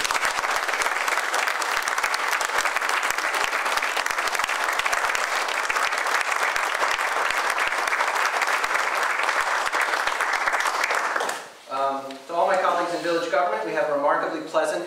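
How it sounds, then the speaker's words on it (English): Dense, sustained audience applause fills a village board of trustees meeting for about eleven seconds, loud and steady, before it cuts off and a voice begins speaking. "So let's have a round of applause for everyone who works in Tivoli."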